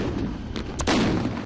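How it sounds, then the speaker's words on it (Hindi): A blast goes off as an observation post is blown up during a CRPF battalion battle with a Pakistani brigade at Sardar Post, with a few sharp bangs leading into a sustained roaring burst, moderately loud and with no talk. "पर सिपाही शिवराम ने अपनी जान पर खेलकर इस ऑब्जर्वेशन पोस्ट को उड़ा दिया"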